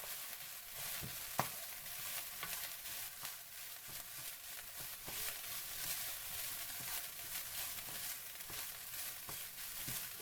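Cantonese fried rice is stirred in a wok, soft scraping and shuffling taps repeating over a low, steady background sizzle, fairly quiet and with no voices.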